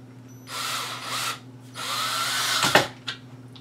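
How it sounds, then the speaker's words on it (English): Cordless drill whirring in two sustained bursts as it drives screws into an IKEA Pax closet system drawer, followed by a few sharp clacks of the bit and workpiece settling, loud and close with no voices. "it's a lot easier to use some sort of cordless screwdriver or cordless drill than it is to go ahead and just use a hand screwdriver"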